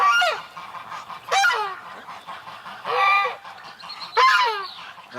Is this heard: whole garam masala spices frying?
no